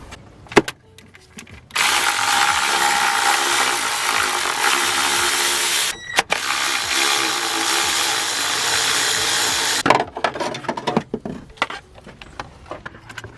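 Power ratchet spinning off the 13mm heat shield bolts on a Mini Cooper, two loud sustained buzzing runs separated by a short pause, with clicks and clanks of handling before and after.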